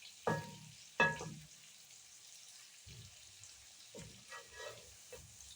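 Onions frying in a skillet, a quiet, low sizzle interrupted by a few louder bursts of crackling and scraping as they are stirred.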